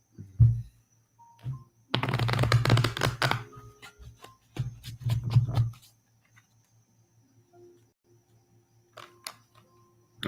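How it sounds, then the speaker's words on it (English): A deck of cards shuffled by hand during a psychic card reading: quick fluttering riffle bursts with soft thumps between them, close up, separated by quiet pauses. "Let me give the deck a shuffle."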